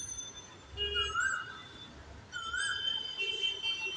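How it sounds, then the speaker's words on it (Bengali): A koel calls from a tree near a house, two clear rising whistled phrases separated by a pause, heard at moderate distance over faint ambient background. "কি সুন্দর করে সামনের গাছটাতে কোকিল বসে বসে ডাকছে"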